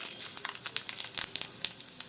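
Dried red chillies and tempering seeds crackle and sizzle in hot oil for bitter gourd fry, a close, busy spatter of sharp pops over a steady frying hiss, with no talking.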